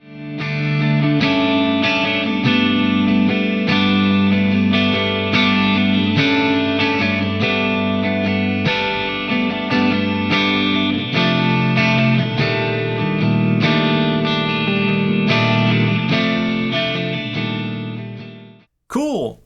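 Clean electric guitar through an ENGL Fireball 25 tube amp, chiming chords with slight breakup, played continuously for about eighteen seconds, then stopping abruptly.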